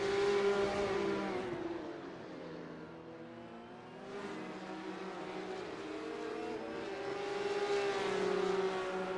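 Porsche Cup race cars in a sim racing game, engines revving high and shifting through gears as they speed down a straight, a steady loud mechanical whine rising and falling.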